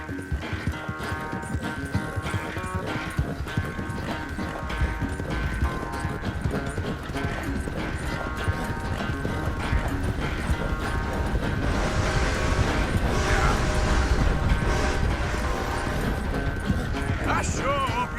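Steady clip-clop of horse hooves on a trail while riding in the game Red Dead Redemption 2, continuous and rhythmic, joined by tack jingling and a faint whinny, with someone speaking over it.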